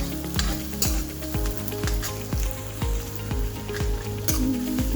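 Onions frying in a pan for homemade biryani, a steady sizzle with repeated clanks of a spoon stirring against the pan at a regular beat, close and fairly loud with no voices.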